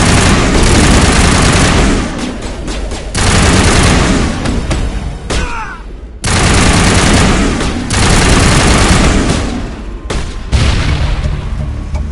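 Sustained gunfire in a video-game firefight in Mass Effect, loud and dense, with bursts of shots and booming impacts running almost continuously, broken by a couple of brief lulls.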